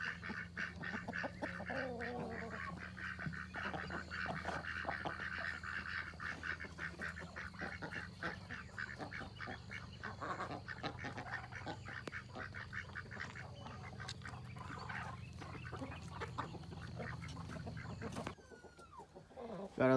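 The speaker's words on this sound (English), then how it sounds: "Got all the hens on the nest now." Hens settled in the nest boxes give soft, continuous clucking and murmuring, fairly faint, with scattered clucks and shuffling throughout and a brief disturbance near the end.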